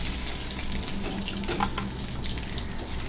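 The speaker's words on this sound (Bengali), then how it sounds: "মাছগুলো আমার বেশ এপিট ওপিট বেশ সুন্দর করে ভেজে নিয়েছি" Steady sizzle of katla fish pieces frying in hot oil, a continuous close crackle with no speech over it.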